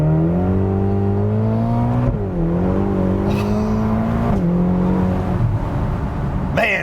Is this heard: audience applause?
no